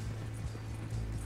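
Horses' hooves clip-clopping in Red Dead Redemption 2 with a steady, muffled rhythm of thuds over a low continuous rumble, fairly close.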